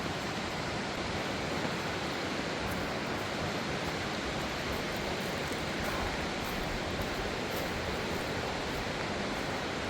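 A waterfall rushes steadily near a porch along a wooded path, a dense, unbroken roar of falling water at constant loudness throughout, with no voices.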